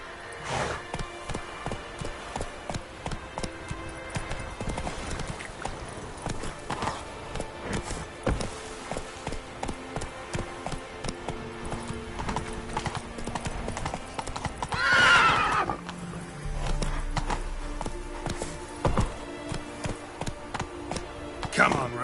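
Horse hooves clip-clop steadily at a gallop in The Witcher 3, a rapid, even rhythm running throughout with a brief whinny midway, mixed under game music and ambient sound.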